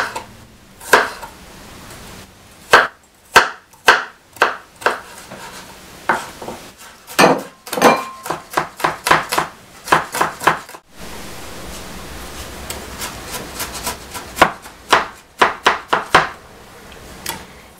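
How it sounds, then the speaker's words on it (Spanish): Garlic chopped with a knife on a board while preparing beef cazuela or ropa vieja: rapid, sharp, close knock-like strikes in irregular bursts separated by brief pauses. "Y también voy a picar el ajo."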